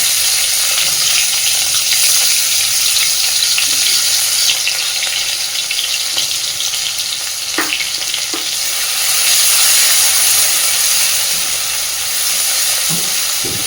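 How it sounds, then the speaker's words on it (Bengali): Crushed onion and garlic fry in hot oil in a pan, giving a loud, steady sizzle with a few light stirring clicks and scrapes close by, and no talking. "এই তেলের মধ্যে এবারে আমি দিয়ে দিচ্ছি পেঁয়াজ আর রসুন।"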